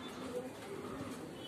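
Imported Indian sent pigeons coo softly at a pigeon farm, a faint low repeated murmur from several birds with background hum.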